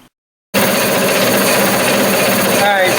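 Lathe cutting a hardened roll with a CBN insert, a loud, harsh, continuous grinding scrape that starts abruptly after a short silence and holds steady, close by.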